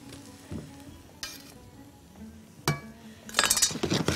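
Onion and garlic frying in a pot, with scattered utensil clinks against the pot and a louder burst of sizzling toward the end.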